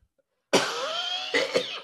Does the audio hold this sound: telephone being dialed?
no